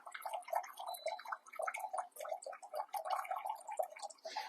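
Water dispensing from a DREO water filter unit set to pour 8 ounces, a steady gurgling, bubbling stream with small drips, fairly close and moderately quiet, running alone without talk.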